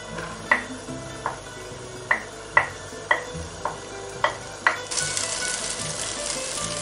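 Garlic and chorizo in a pan, with a run of sharp metallic clinks from stirring spaced roughly every half second, followed by a steady bright sizzle of frying that swells near the end, no talking.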